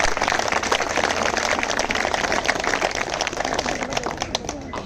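An audience at a speech breaks into dense, sustained clapping, loud and continuous for several seconds, with a murmur of crowd voices underneath.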